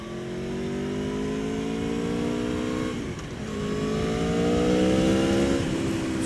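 An Aprilia Tuono 1100 Factory motorcycle accelerates hard, its engine climbing in pitch through the gears with a brief dip at a shift before revving up again, loud and close.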